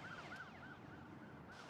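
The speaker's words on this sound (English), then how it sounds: "About 2 miles from the house, I finally met the ambulance." Ambulance siren wailing in a rapid, repeated rising-and-falling pattern, faint and muffled as if heard from some distance or inside a vehicle, over a continuous low road rumble.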